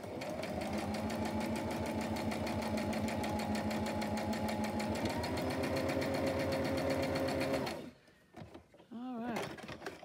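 A sewing machine stitches a top in a fast, steady mechanical rattle for about eight seconds, then stops, leaving a few brief clicks and handling sounds.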